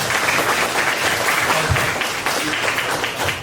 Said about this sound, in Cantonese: 我俾掌聲啊 Raymond 先